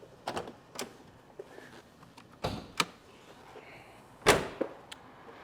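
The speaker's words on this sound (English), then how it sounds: "Now we'll go ahead and pop the hood." Hood latch and hood of a 1988 Pontiac Fiero GT being opened, heard as a few sharp metallic clicks and thumps close by, with a louder clunk near the end and quiet gaps between.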